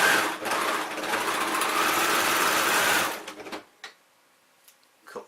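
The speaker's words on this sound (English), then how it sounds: "Now I like to just overlock all of my panels in one go" An overlocker sewing machine runs steadily for about three seconds while overlocking denim jeans panels, a loud, continuous whirring stitch that then stops, followed by a few faint clicks and handling sounds.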